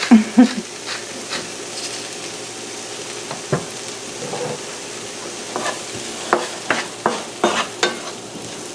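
Mushrooms frying in oil in a pan with a little salt and pepper, a soft crackling sizzle punctuated by scattered sharp clicks and taps from stirring, close by and fairly quiet, no voices.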